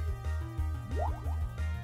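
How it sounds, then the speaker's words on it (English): A Water Gun attack in the video game Pokemon Uranium plays as a short synthetic effect, with a rhythmic pulsing tone and a few quick rising bubbly sweeps in the middle. "yeah, like that water gun."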